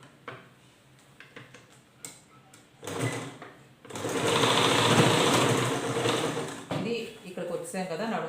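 A sewing machine stitches a frock in short stop-start runs and then one longer whirring burst, close by, with someone speaking between and over the stitching.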